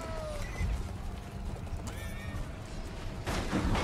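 A horse whinnies loudly and hooves clip-clop in the medieval combat game Chivalry 2, with distant battle clatter in the background and no talking.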